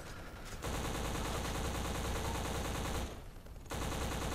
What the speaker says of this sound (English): There's one thing I don't like about the game, and that is the AK. It hurts my ears.